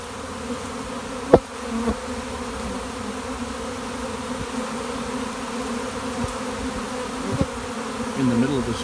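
A honey bee swarm hums steadily close by, a dense continuous drone with a few sharp knocks and rustles over it.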